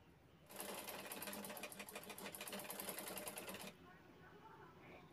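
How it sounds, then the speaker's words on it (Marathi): Sewing machine stitching the corners of a handmade handbag: a steady close mechanical whirr running for about three seconds, then stopping, with quiet room noise after. "त्यानंतर ही कॉर्नर आहेत ते कॉर्नर शिवून घ्यायचे आहेत."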